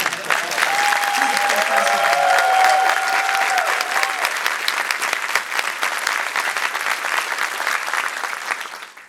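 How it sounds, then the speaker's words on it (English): A legislative audience at the Hawaii Marriage Equality Bill signing gives a full round of applause, dense and sustained clapping with a few whoops early, loud throughout and tapering off at the end. "he really deserves one more round of applause"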